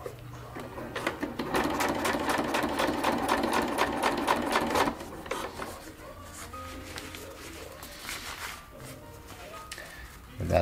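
A sewing machine tacks silnylon tarp fabric in a fast, even chatter of stitches for about five seconds, then stops, leaving quieter handling noises and faint rustling nearby.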